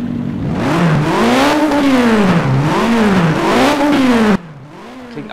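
A race car engine in the Project CARS pre-alpha racing game revs up and down in repeated smooth swells, loud and close, then drops abruptly to a low idle near the end.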